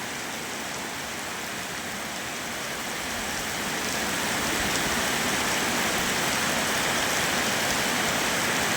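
Heavy rain pours at a Thai temple, Wat Pho Ban Chok in Khon Sawan, Chaiyaphum, a dense, unbroken hiss that swells louder partway through and holds steady.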